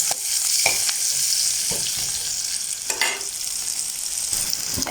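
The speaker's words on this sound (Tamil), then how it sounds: "கொஞ்சம் என்னப்போ இந்த வெங்காயம் எல்லாம் பொரிகிறது நேரம் தெரியுமா." Sliced onions fry in hot oil in a pan for a vegetable curry, with a steady close sizzle throughout and occasional scraping knocks as they are stirred, and no voices.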